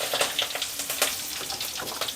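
Freshly cut curry leaves and cumin sizzle in hot oil for puffed rice upma, a close, crackling hiss with quick spitting pops through a brief moment.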